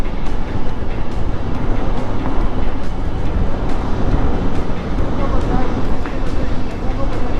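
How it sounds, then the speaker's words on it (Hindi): A KTM 390 Adventure 2024 motorcycle cruising steadily with cruise control engaged, giving a loud, continuous engine drone mixed with rushing wind noise on the microphone, no pauses or gear changes. "सो देखो इस तरह से बाइक अपनी चलती रहेगी"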